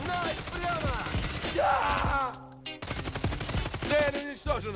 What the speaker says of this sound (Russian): Очень слабый эффект, как по мне, когда по тебе стреляют.